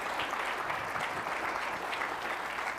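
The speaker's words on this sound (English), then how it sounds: "Can we get another applause for Sarah, AKA Dr. G," An audience at a tech talk on distributed tracing applauds the speaker, a steady, full burst of clapping held at even loudness for the whole stretch.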